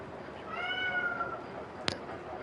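A male cat cries to be let out at a door, giving one drawn-out, wavering meow at moderate volume, followed by a sharp click in an otherwise quiet room.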